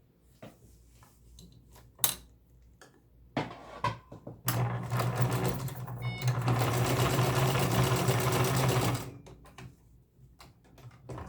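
A Touch-Tronic 2001 sewing machine that had been skipping stitches runs steadily for about four seconds of continuous whirring stitching, loud and close, framed by scattered clicks and handling knocks before and after.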